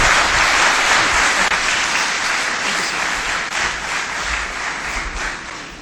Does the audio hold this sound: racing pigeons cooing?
no